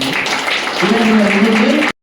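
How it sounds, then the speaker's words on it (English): Audience applause at an international seminar on global trade tariffs held at a college, a broad crowd clapping for about two seconds alongside a voice speaking, then stopping abruptly. "Please give a very big applause."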